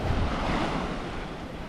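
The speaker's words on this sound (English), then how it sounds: "Got the waves coming in." Ocean waves rolling onto the shore at Lo Island, Vanuatu, a loud, continuous rushing wash of surf mixed with wind buffeting the microphone, close by and without talk.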